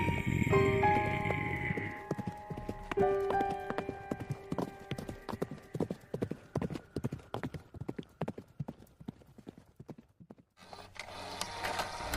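Horse hooves clip-clop in a steady, regular rhythm on a hard surface, starting close and loud, then fading gradually farther away with one faint whinny near the start.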